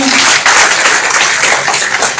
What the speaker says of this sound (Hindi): मैं उनसे तालियों का स्वागत करवाता हूं